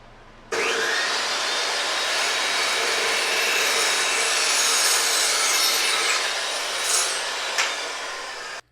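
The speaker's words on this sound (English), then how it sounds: "So let's get this new pieces of tube cut, get them notched and get them welded together." A power saw cuts new lengths of metal tube for a Jeep Gladiator/JL phone and accessory mount, a loud continuous grinding whine running steadily for about eight seconds after a sudden start, with small surges near the end.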